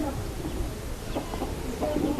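Hens cluck on a local poultry farm in Odisha, soft scattered clucks rising over a constant background hum, close and low in level, with no clear talk.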